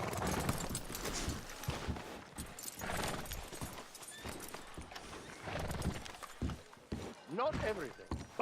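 Horse hooves clip-clopping on the ground in the video game Red Dead Redemption 2, with a whinny near the end, heard beneath talking voices.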